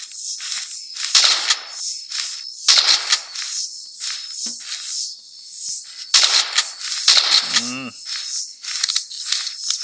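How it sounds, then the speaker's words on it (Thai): Gunfire in a forest horror video game, with repeated sharp, loud shots spaced a second or two apart and a reload clatter between them. "ยิงหัวเลย โอเค รีโหลดกระสุน"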